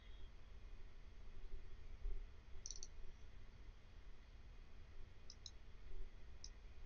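Computer mouse clicks during Matlab work on a PSO optimization program, a few faint, sharp ticks spaced apart over a steady low background hiss.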